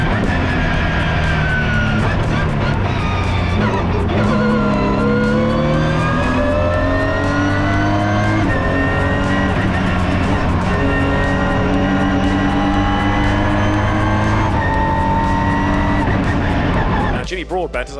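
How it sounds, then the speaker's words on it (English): Ginetta race cars scream through the infield of a circuit, their engines revving and shifting in loud overlapping sweeps as a commentator talks continuously over the noise. "And the cars now then turn their way up through the infield part of the circuit then."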